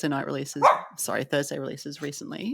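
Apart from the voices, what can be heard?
dog barking in the background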